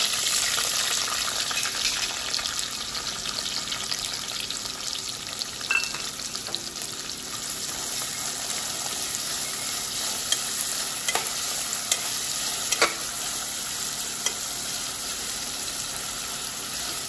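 Finely chopped onion frying in a pan for homemade chicken biryani, a steady broadband sizzle with occasional stirring scrapes and clinks, continuous and fairly close, no voices.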